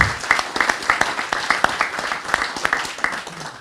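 An audience claps for a speaker at the close of a talk at a conference on building a low-carbon industry, a short burst of close, sharp handclaps from a modest crowd with no voices over it.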